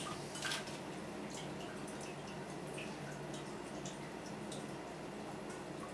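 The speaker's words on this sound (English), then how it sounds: "And we're going to let it drain into our carboy" Wine drains through a siphon racking hose into a carboy, a soft, steady trickling and faint dripping of liquid that runs evenly and quietly throughout with no talking.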